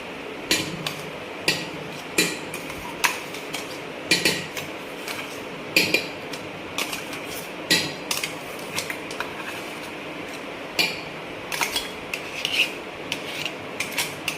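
A metal spoon scrapes and taps inside a pot, pulling out ground green chilli, garlic and cumin, a steady run of sharp clinks and rasping scrapes, close and clear with no talking.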